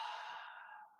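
A single long exhale blown out through the mouth during a vinyasa yoga breathing exercise, a soft airy whoosh close by that slowly fades over about a second.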